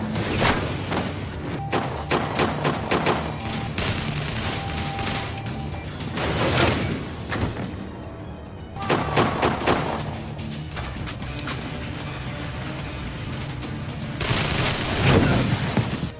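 Gunfire from a .50-caliber sniper rifle in a film scene: loud, sharp shots in rapid clusters with heavy booms and shattering impacts, dense and nearly continuous across the passage.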